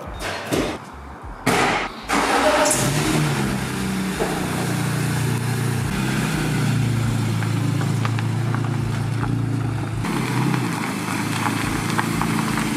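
A BMW M3 engine cranks and catches after a couple of door-like thumps, then settles into a steady, deep rumbling idle that carries on close by.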